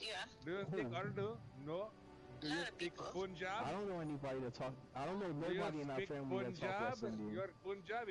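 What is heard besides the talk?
No distinct noise like a dog, phone or traffic.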